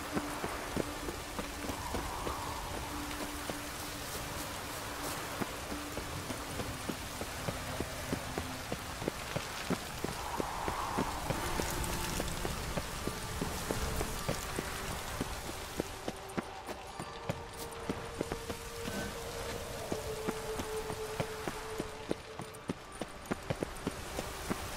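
Steady rain falls in The Witcher 3, a dense, even patter of drops on surfaces that continues throughout, with faint hoof-like clopping underneath and no speech.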